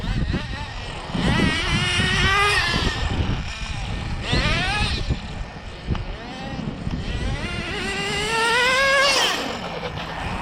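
Team Losi XXX-NT nitro RC car with an OS 12CV engine on 30% nitro fuel, its high-revving whine rising and falling in repeated bursts as it launches and runs, heard near to mid-distance with people talking over it.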